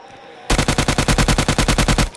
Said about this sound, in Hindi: उसके बाद गोली चल रही है गाइस